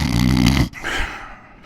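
A preacher imitates loud snoring with his voice, a rough, rumbling snore lasting under a second, followed by quieter breathy noise.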